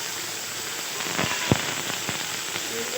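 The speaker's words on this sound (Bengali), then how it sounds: "তেলে আমি এখন চিংড়ি মাছগুলো ভেজে নেব।" Shrimp frying in hot oil for a Bengali potol chingri dish, a steady close sizzle with scattered sharp crackles and one louder pop, no voices.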